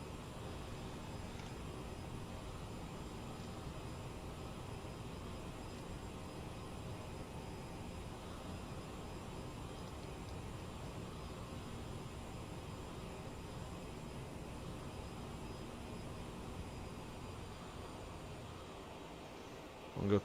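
A steady, faint whoosh of Aerosoft CRJ 900 jet engines during cruise in MSFS 2020, an even broadband hum with a low rumble that holds unchanged and distant throughout.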